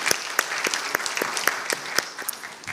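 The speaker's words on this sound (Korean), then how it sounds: "우리 하나님께 영광 박수 올리겠습니다" A church congregation at a Wednesday worship service claps in praise, with distinct sharp claps at an uneven, loose rhythm from a modest group, fairly close and with no speech over them.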